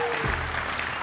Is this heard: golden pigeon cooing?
no